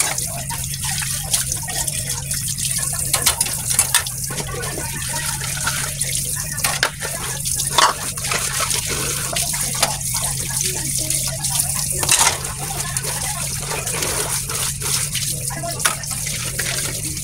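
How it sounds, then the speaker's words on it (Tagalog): Dishes being washed under running water in a home kitchen while soup cooks, a continuous hiss of tap flow broken by irregular clinks, splashes and drips throughout, close and fairly loud. "maghugas muna tayo ng plato."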